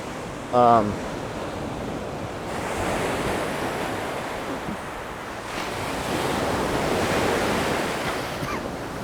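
Ocean surf breaks along a reef shore strewn with shells and broken reef, a loud rolling wash that swells and recedes with wind buffeting the microphone and a brief sharp sound near the start.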